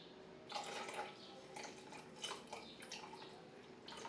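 Milk poured into a glass for iced coffee: a faint, close trickling and splashing liquid stream with small gurgles, quiet throughout and without speech.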